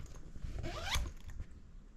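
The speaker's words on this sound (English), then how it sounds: "I'm going to zip you up" A zipper closes on a Slumberpod blackout sleep tent for babies, one quiet continuous pull lasting about a second, close up, with no talking.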